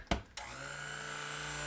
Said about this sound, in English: Burp the blender.